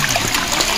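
A fresh hill stream at Ananthagiri Hills, Vikarabad, flows in a steady trickling rush, close and continuous with no voices over it.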